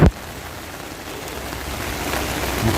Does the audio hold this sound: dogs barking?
no